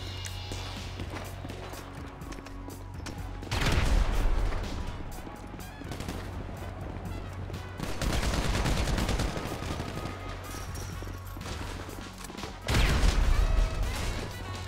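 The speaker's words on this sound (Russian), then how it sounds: "у меня зато есть тяжелый пулемет" Heavy machine gun fire in a GTA Online deathmatch, loud sustained bursts in several waves with louder peaks and explosive crashes, continuous gunfire between them.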